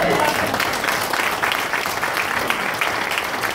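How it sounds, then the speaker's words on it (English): Wedding guests clapping for themselves at the reception, loud, dense applause filling the room throughout. "Give yourself a clap."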